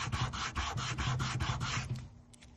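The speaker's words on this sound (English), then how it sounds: "So I'm just going to start sanding it again on my sanding block." Leather guitar pick case edges rubbed against a sanding block, a run of quick close scratchy strokes in steady rhythm that stop near the end.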